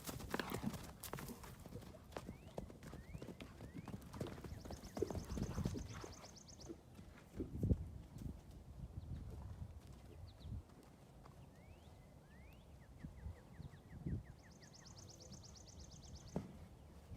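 Horses at play trot and shuffle on the ground, their hooves clip-clopping faintly and irregularly at a distance, with occasional bird calls in the background and no talk.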